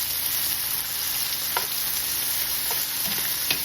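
Bologna and onions fry in grease with a constant close sizzle, broken by a few sharp clicks and scrapes as the food is stirred.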